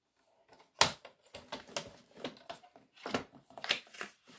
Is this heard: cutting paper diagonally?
yes